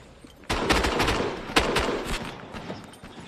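Rapid bursts of gunfire in a Halo-style 2v2 arena tournament match, loud and close, with sharp shots crackling over continuous game noise and no talking.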